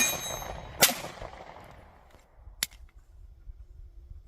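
Two sharp handgun shots fired at 15 yards while testing a red dot sight on a range, each a loud crack with a decaying ring, spaced about two seconds apart, then quiet ambience.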